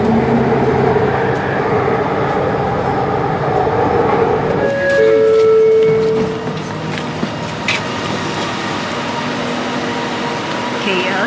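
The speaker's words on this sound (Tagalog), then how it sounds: "Ayun na yung tren. Tumating na. Sakay na tayo." A train pulls into a station on the line between Masjid Jamek and KL Central in Kuala Lumpur, with a steady loud rumble, rising and falling tonal whines and brake squeal, then quieter cabin hum and clicks as it moves off.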